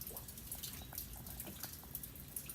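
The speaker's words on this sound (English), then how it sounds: "Oh, I actually got a little bit of a gurgle" Faint wet gurgling and soft crackle from a Nording churchwarden pipe packed with Rattray's tobacco while being smoked, a low bubbling under a quiet room hiss with no talk.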